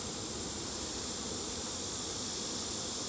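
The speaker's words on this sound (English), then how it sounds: "the bees of the other hive" Dense steady buzzing hum of many honey bees at a hive, continuous and close, with no voices.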